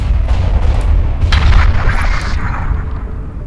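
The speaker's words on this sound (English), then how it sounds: "Enemy ship destroyed." An enemy spaceship is destroyed in Starpoint Gemini 2, a loud booming blast with rumbling low end and crackling bursts, continuing as a dense roaring wash for a few seconds.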